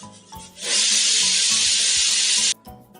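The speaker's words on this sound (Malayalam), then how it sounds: "സോറി കേട്ടാ കുക്കറിൻ്റെ വിസിലടിയാണ് കേട്ടത്" A pressure cooker boiling green gram in a home kitchen lets out one loud, steady hissing whistle lasting about two seconds, with a brief quieter lead-in and faint kitchen sounds around it.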